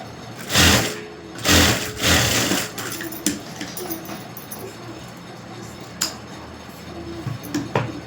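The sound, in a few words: sewing machine stitching a blouse back neck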